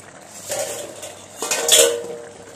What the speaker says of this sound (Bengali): দেখো বন্ধুরা আমার রান্নাটা হয়ে আসছে, আমি ঢাকাটা তুলে নিচ্ছি।